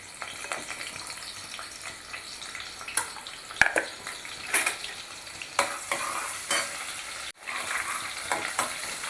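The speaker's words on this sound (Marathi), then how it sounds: "तेल गरम झाल्यानंतर आपण थोडासा कांदा घालायचा याच्यामध्ये." Chopped onion sizzles and crackles in hot oil in a pan, a steady close frying hiss with scattered stirring scrapes and clinks, no voices.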